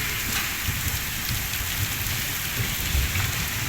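Steady, dense rain and hail pour down close by in Punjab, a constant hiss with low rumbling thumps of heavier hailstone impacts throughout.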